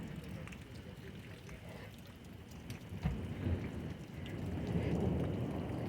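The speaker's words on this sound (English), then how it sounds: "raining, hailing, threat of tornadoes." Rain pours steadily during a severe thunderstorm with hail and flooding on a street, while a thunder crack lands near the middle and low rumbles build afterward; a faint voice is also present.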